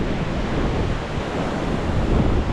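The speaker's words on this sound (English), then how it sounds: "There's a sample of that wind." Strong wind gusting at a snowy high-country solo campsite, a steady dense roar with surf-like rushing and microphone buffeting, loud and continuous with no voices.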